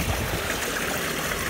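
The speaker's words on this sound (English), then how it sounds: "that's the water heater water coming in" Water from a water heater rushes through a pipe or tube in a steady, close, hissing trickle with no pauses.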